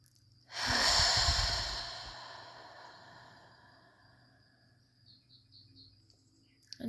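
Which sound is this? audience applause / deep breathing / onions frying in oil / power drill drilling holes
deep breathing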